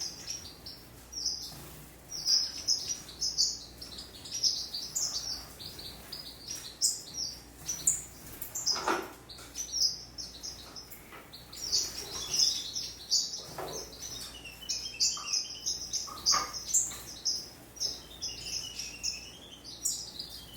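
Small aviary birds chirp and tweet near and far in quick, repeated bursts, a busy continuous chatter with a few louder calls standing out and no talking.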